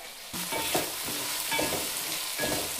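Ginger paste and onions fry in a pan, a loud steady sizzle heard close up, punctuated by several rhythmic scraping strokes of a spoon stirring, with no voices.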